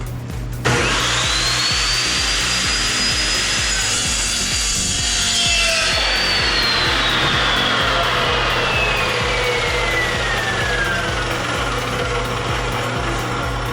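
An Evolution 14-inch metal chop saw cuts through metal, its loud abrasive grinding whine holding steady for over ten seconds with a pitch that rises at the start and sags as the cut finishes, no talking.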